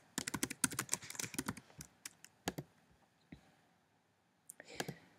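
Someone types on a computer keyboard, a quick run of close, faint key clicks followed by a few scattered taps, a pause, and a last short burst.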